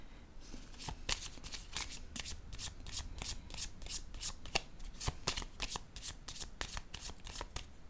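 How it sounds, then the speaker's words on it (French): Tarot cards riffled and shuffled by hand, a rapid series of crisp close flicks and snaps repeating steadily throughout with no talk. "je vais piger une carte sur le féminin"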